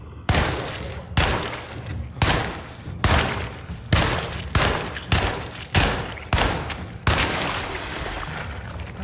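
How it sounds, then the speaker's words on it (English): A Tommy gun fires in the Alone in the Dark video game, about eight sharp automatic bursts separated by short gaps, loud and close, ending in a longer sustained burst. "Tommy gun time."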